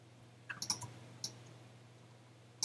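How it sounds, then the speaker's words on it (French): A computer mouse clicks during photo editing in Photoshop Elements: a quick cluster of sharp, close clicks, then a lone click, a quiet pause, and one more click at the end. "Je clique dans la zone grise et je viens ici."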